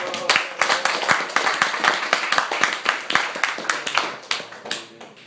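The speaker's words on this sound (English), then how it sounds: "Give a round of applause." A small audience at a poetry reading claps, with distinct individual hand claps in a sparse, uneven rhythm, close and fairly loud, with no talk over them.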